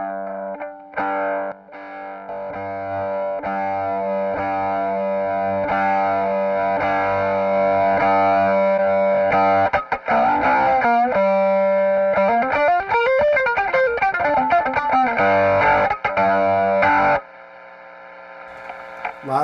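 Electric guitar through an Analogman Astrotone fuzz and a King of Tone overdrive set to heavy gain plays thick, saturated sustained chords, then a sliding bend and rapid picked passages, loud and continuous with no talk.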